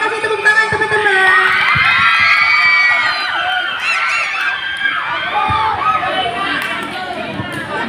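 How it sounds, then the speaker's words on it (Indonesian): A school student crowd at an Islamic junior high council candidate debate erupts in high-pitched cheering and shouting, with some clapping underneath, loud and sustained throughout. "Boleh kasih tepuk tangan teman-teman."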